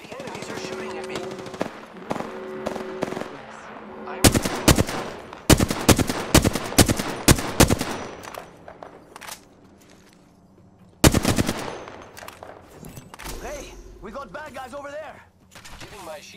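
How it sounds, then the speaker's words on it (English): Enemy gunfire in the battle-royale game Apex Legends, with rapid automatic bursts and single loud shots arriving in clusters and pausing between them. A quieter stretch in the middle gives way to another sharp volley. "The enemies are shooting at me."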